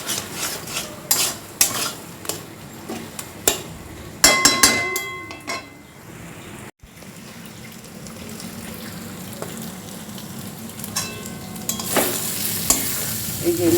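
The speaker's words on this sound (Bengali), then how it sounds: "এবার বারে বারে নাড়তে হবে, আঁচ কমিয়ে কমিয়ে পুরো শুকনো হবে" Lote fish jhuri dry-fries in a pan with a steady crackling sizzle while a spatula scrapes and stirs it repeatedly, the strokes loud and close, with a brief quiet gap before the stirring resumes.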